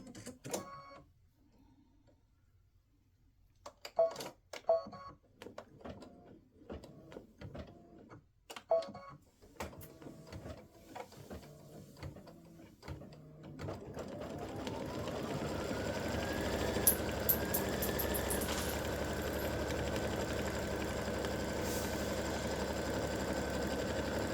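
A sewing machine tacking down appliqué fabric on a quilt block, starting with scattered clicks and short stitching bursts, then settling into a steady, continuous whirring run.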